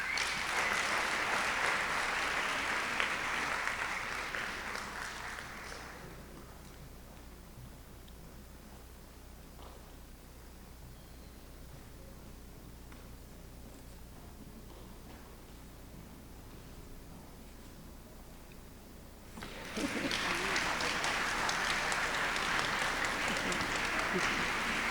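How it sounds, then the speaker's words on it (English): A crowd at a community event honoring Opal Lee claps in a loud burst of applause. The clapping fades out after about five seconds and comes back at full strength near the twenty-second mark. Between the two bursts there is only quiet room noise. "We can have another round of applause for our female elected officials, our Greek organizations, our civic organizations, and our community organizations."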